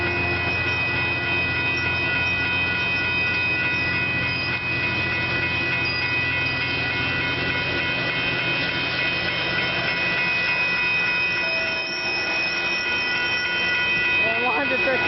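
A southbound Caltrain passes by on the rails at Burlingame with a loud, steady rumbling roar and rhythmic wheel clatter close by, sustained throughout.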